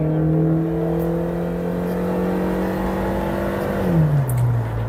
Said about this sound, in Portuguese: Não é um carro tranquilo de acelerar, não. Ele é lento, ó. E grita